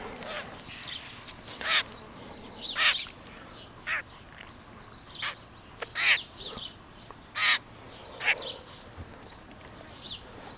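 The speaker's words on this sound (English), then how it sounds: "That's a cool bird." A pet bird, a cigar-loving crow-like bird kept at home, gives a series of short, loud cawing calls in spaced bursts, with quieter chirps between and faint background noise.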